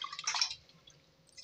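Rice and black urad dal are rubbed and rinsed in water in a bowl, a brief faint splash and slosh at the start fading to quiet trickles.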